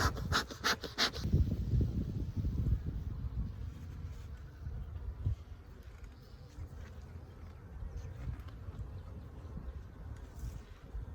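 Dense, steady buzzing of many honey bees close by at a hive, a continuous low drone with a few brief clicks at the start.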